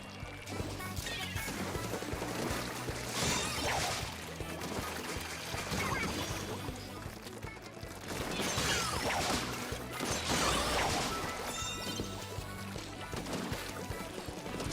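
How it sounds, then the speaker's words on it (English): Gameplay from Splatoon 3 with the Slosh Machine weapon, a busy mix of repeated sloshing splashes and crashing impacts over a steady game soundtrack, loud and continuous throughout. "Slosh Machine gameplay"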